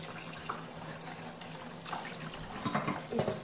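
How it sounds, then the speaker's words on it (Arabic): Water pours over couscous in a pot, splashing and gurgling softly in uneven bursts that swell toward the end, close by and fairly quiet. "غنخوي عليه الماء"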